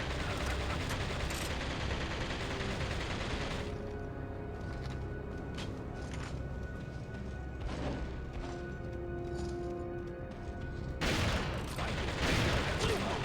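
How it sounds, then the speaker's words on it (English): Dense bursts of gunfire rattle through a loud, busy game scene, rapid shots stacking into near-continuous volleys that ease briefly in the middle and then surge back at full force near the end. "You're gonna shoot more bullets."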